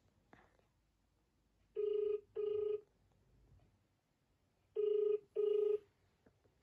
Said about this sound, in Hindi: चुप यार फोन आया करता है।